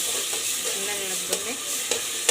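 Tomatoes are stirred into sizzling Chinese biryani in a pan, a continuous frying hiss broken by a few sharp scraping strokes of the spoon, close up and without talk.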